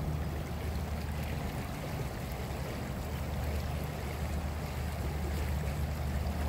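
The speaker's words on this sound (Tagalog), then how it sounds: "maganda yung agos ng tubig doon" Stream water near Bowmanville where salmon are caught rushes in a continuous, full, steady wash, close and fairly loud with no break.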